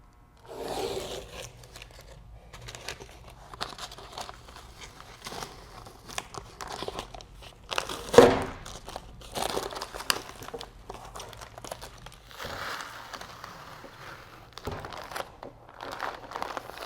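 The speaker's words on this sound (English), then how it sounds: "Let's pull the tape off and see how we did." Masking tape peeled off a refinished quarter window on a Foxbody Mustang, with close intermittent crinkling and ripping of tape, one louder tearing burst midway, and soft handling noises between pulls.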